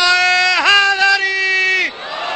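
A Shia majlis crowd at Imamia Colony, Lahore, shouts a religious slogan in unison during a Ramzan gathering, one long sustained chorus of many voices with a rising swell midway, loud and close, then breaking off into scattered murmur.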